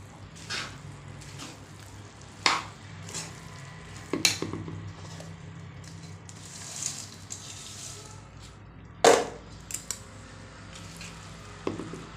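Boondi being stirred in a pan while frying for Tamil boondi laddu, giving scattered scraping knocks and soft sizzling with a few sharper pan clanks, fairly close and steady with no talk.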